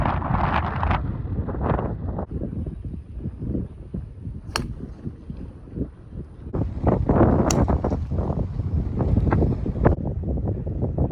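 Strong gusts roar and buffet across an open golf course on the East Course, loud wind rumble battering the microphone in continuous waves, with sharp surges toward the end.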